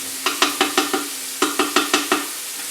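Ingredients for a sausage ravioli and kale soup cook in a pot, a spoon scraping and stirring in two quick bursts of about five rhythmic strokes over a faint sizzle.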